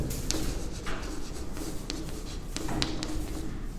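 Pen strokes scratching across paper while a matrix is written out by hand, a series of short scratchy marks at a close, quiet level over low room hiss, with no talking.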